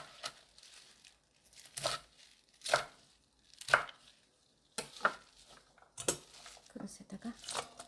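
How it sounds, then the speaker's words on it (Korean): A knife chops radish leaves cut to kkakdugi length on a board, a series of sharp separate strikes with short pauses between them, close and moderately loud, with no talk over them. "깍두기 길이 정도 잘라서"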